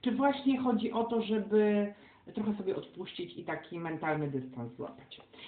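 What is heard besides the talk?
No everyday noise stands out behind the speech.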